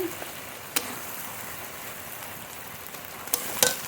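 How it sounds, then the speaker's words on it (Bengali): Desi duck meat sautéing in a pan gives a soft, steady sizzle with a few sharp pops and clicks, faint and close, with no talking. "আর একটু কষিয়ে নেব মাংস জাল দিয়ে দিয়ে খুব ভালো করে কষিয়ে নিয়েছি"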